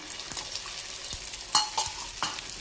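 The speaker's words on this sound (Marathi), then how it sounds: "थोडंसं तेल गरम झालं की आपण हे त्याच्यामध्ये ओतूया." Omelette batter hits a hot oiled tava and sizzles in a steady hiss, with a few sharp scraping ticks as it is spread out. No one speaks.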